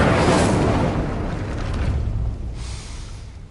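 The Incendio fire spell cast in the video game Hogwarts Legacy, a loud, close roaring burst of flame that peaks immediately, holds as a rushing whoosh, then fades with a brief flare near the end.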